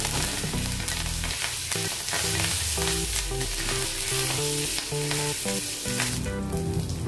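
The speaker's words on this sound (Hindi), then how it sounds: "जीरा भी अच्छे से भून गया है। कड़ी पत्ता डालेंगे।" Cumin seeds and curry leaves sizzle in hot oil for sabudana khichdi, a continuous close frying hiss largely covered by loud melodic music throughout.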